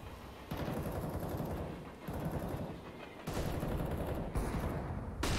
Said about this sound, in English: There's some good sniping coming out from Twist in that one.